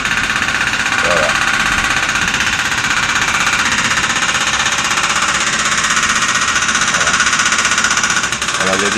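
A jackhammer hammers in a continuous rapid rattle close by in a street in Alfortville, loud and unbroken, with a voice talking over the din.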